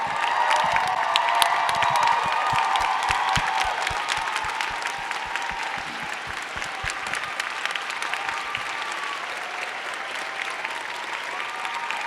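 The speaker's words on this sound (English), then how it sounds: "Let's give a big round of applause to everyone up here." Crowd applause and cheering at a festival closing ceremony, sustained dense clapping with whoops and shouts filling the whole stretch, loud and continuous with slow easing toward the end.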